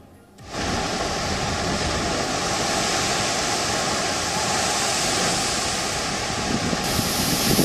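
Surging storm waves in the Arabian Sea during Cyclone Tauktae rescue operations, a steady, loud, broadband rush of churning water that swells in within the first second and roars on unbroken.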